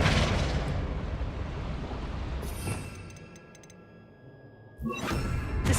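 The Depulso and Flipendo spells go off in Hogwarts Legacy as loud whooshing magical blasts. A heavy burst opens the clip, a sharper one lands midway, and another rises near the end, with quieter shimmering tones between them.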